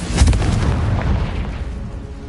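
Confringo spell blast from the Hogwarts Legacy video game: an immediate loud explosive boom with a gritty burst at the start, then a rumbling tail fading over a couple of seconds.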